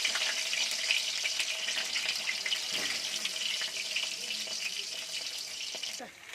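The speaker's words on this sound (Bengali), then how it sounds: "ভেজে নেওয়ার জন্য আলুগুলো অল্প অল্প করে তেলের মধ্যে দিয়ে দিলাম।" Potato pieces fry in hot oil for a vegetarian aloo dum, giving a steady, loud, dense sizzle that holds evenly throughout and dips slightly near the end.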